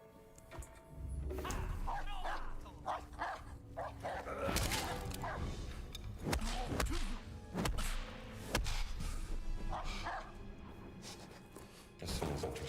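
A dog barks and yips amid thuds and game effects in the video game Indiana Jones and the Great Circle, with several sharp bursts spread through a busy mix and someone speaking over parts of it.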